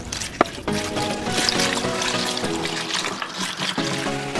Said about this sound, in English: Time to add the water.